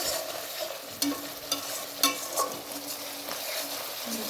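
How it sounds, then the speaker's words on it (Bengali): Spices fry in oil for aloo dum, with the oil separating out. A continuous, moderate sizzle plays under several sharp stirring scrapes and knocks of a spoon against the pan. "মশলাটা ভাজা হয়ে আসছে, তেলটা ছেড়ে দিচ্ছে,"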